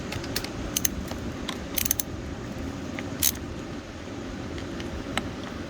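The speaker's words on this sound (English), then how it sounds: "Take these nuts off here. This should take a deep wall socket, but I'm just going to cheat a little bit here." A socket turning nuts off a Stihl 039 chainsaw, with light metallic clicks, clinks and ratcheting taps scattered over a low steady background hum, close by and without speech.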